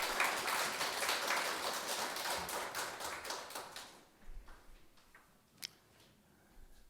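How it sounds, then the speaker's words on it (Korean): A church congregation claps in a brisk, dense burst that gradually thins and fades over several seconds, ending in a few scattered claps and quiet room noise. "우리 하나님께 감사와 영광의 박수 올려드리겠습니다."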